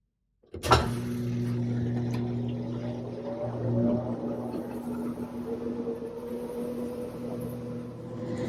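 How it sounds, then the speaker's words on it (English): Steady mechanical hum of a washing machine spinning, a constant droning tone with a whirring rumble that holds evenly throughout, fairly close. "I can hear it there on spin cycle."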